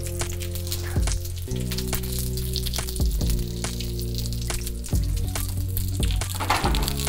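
Canned fish and egg omelet frying in grease, a loud, continuous crackling sizzle with sharp pops and spatters over a steady low hum.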